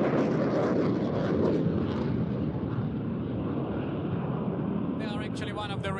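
An F/A-18 Hornet jet at an air show roars in a loud, broad, rumbling wash that slowly fades, while a commentator talks over it.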